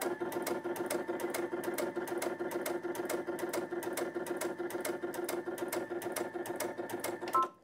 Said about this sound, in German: Und ich nähe jetzt beispielsweise nochmal wieder nach oben rechts.